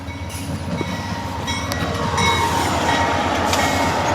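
An NS train hauling away old track rolls past close by, a loud, steady rumble of wagons and wheels with a faint horn-like tone and rising clatter, without talk.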